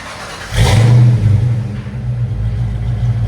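A loud 1987-1993 Ford Mustang GT 5.0 V8 exhaust blips into a deep rev, then settles into a heavy, burbling rumble close by.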